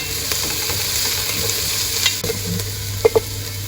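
Garlic stirred and sautéed with translucent onions for Ilocano beef papaitan, a steady loud sizzle under continuous spoon scraping and a couple of sharp utensil knocks near the end, with no voices.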